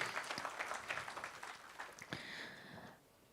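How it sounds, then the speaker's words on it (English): Audience applause after a session at a 5G network security conference, a faint, scattered patter of clapping that thins out and fades within about three seconds. "Please give them a big round of applause if you found that useful."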